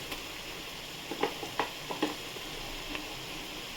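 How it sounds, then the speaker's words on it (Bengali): Steady sizzling of garlic paste frying with onions in a pan, with a few soft clicks and stirring noises scattered through. "1 চামচের মতো রসুন বাটা দিলাম, ভেজে ফিরছি"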